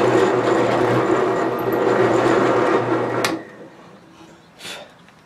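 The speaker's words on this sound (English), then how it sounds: "We're going to go up and down with our drill so we drill a good clean hole." A hand or power drill bores a hole through a knife handle from a Fox Ridge Arms Flint and Steel kit, a steady close whirring grind for about three seconds before it stops, followed by a brief faint scrape.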